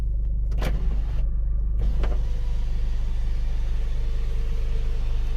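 An SUV's sunroof motor whirs and clicks as it opens, over a steady low engine rumble inside the vehicle.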